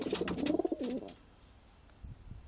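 A male red racing pigeon coos close by in a short run of throaty, pulsing notes for about a second, then goes quiet, leaving faint low thumps near the end.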